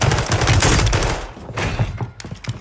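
Dense, rapid gunfire bursts from the online shooter Call of Duty Warzone (Modern Warfare III, Season 2 Reloaded), loud and close, with overlapping shots packed into the first second and a half before thinning to scattered sharper cracks.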